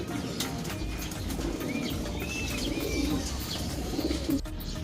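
Pet pigeons coo softly over steady rain in a loft in Tarlac, Philippines. The low, murmuring calls are faint beneath a constant hiss of rainfall, with occasional light chirps.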